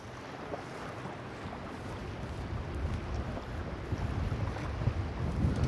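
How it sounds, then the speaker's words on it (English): Strong high winds blow across an electric-only lake during a fishing trip, a steady broadband roar buffeting the microphone and swelling louder toward the end, with water and boat noise underneath and no talking. "A fishing trip interrupted by high winds on an electric-only lake."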